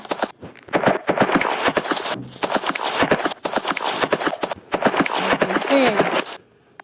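Hooves of a Roblox game horse clip-clop in quick, steady, close strikes that run almost the whole time, pausing briefly before stopping.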